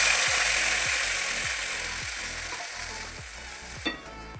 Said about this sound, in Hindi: देखिए ये तो जीरा डालेंगे इसी को। और इसमें हमने जीरा ऐड कर दिया है। अब ये चटनी में तड़का लगा रहे हैं।